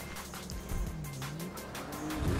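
Engine of a matte red modified car in GTA 5, a brief low rumble with a rising tone and a short tire squeal toward the end, heard alone.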